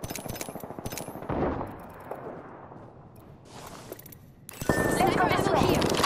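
Bursts of gunfire in the Apex Legends battle royale game on the Kings Canyon map, rapid automatic shots in clusters at the start and a dense loud barrage near the end, with quieter stretches and game sounds between.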